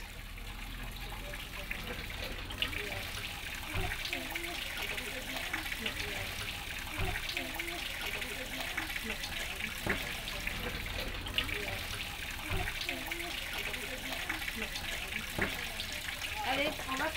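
Water is poured and splashed steadily as a young child at a crèche fills and empties containers, a soft continuous trickle and gush with occasional clinks and knocks of vessels, faint voices in the background.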